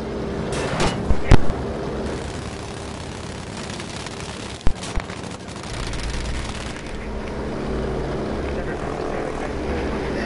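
A propeller warplane in the Battlefield V shooter drones overhead amid the rumble of battle, marked by a few sharp blasts, while voices talk in the background.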